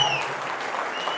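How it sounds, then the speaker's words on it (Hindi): An audience gives Shinde sahab a quick round of applause, a brief, fairly loud wash of many hands clapping together. "तो शिंदे साहब के लिए जोरदार ताली हो"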